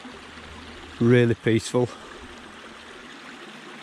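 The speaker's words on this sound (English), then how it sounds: "we've got the river running through" A river and small stream run over rocks through a moorland valley, giving a steady, even wash of flowing water throughout, with someone speaking briefly over it partway through.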